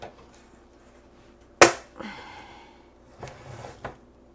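A can of Honeyville whole powdered eggs is opened, giving one sharp, close pop with a brief hiss of rushing air, followed by a few softer scrapes and taps.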